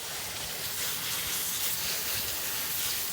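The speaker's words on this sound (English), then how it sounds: "just a quick final spray down of the boots" Dawn dish soap and water rinse sprayed over dirtbike boots, a steady continuous hiss of water spray, fairly close and even in loudness throughout, with no voices.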